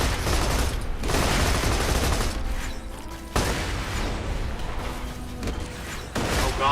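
Video game machine guns rattle in sustained loud bursts, dense clattering fire with brief breaks and sharp restarts, mixed with mechanical creaking and clanking.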